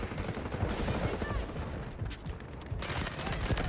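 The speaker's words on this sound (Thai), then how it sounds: "มีคนยิงมา" Dense gunfire fills a Delta Force video game battle, with continuous bursts and rattling shots layered over constant background noise, and players talking briefly throughout.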